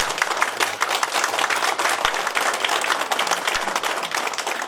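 Sustained applause from an audience at a joint debate of candidates for the Daejeon social workers' association president election, dense steady clapping filling the hall without letting up, loud and close, with no talk over it.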